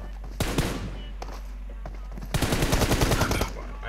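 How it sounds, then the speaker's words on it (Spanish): Video game gunfire: one sharp shot, a few scattered pops, then a rapid automatic burst, all over a low steady hum. "Bueno, en esta el disparo."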